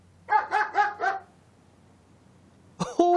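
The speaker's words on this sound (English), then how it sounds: "Oh, yes, the dog from across the road." A dog across the road barks four times in quick succession, then a short pause before another yelp at the end; the barks are clear and fairly close against a quiet background.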